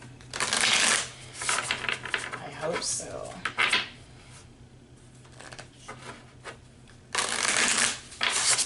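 Cards are riffled and shuffled in bursts, with a long burst at the start and another near the end, and a person speaks briefly between them.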